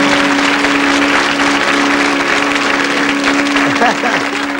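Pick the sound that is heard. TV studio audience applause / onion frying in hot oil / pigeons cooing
TV studio audience applause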